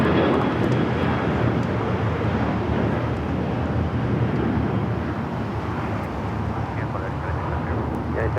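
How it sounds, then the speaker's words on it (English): A United Airlines Boeing 737-900ER departs Los Angeles International for Houston with a sustained, rumbling jet roar, steady and fairly distant, muddied by wind buffeting on the microphone. "That was United Airlines heading to Houston, flight 1012, 737-900 ER."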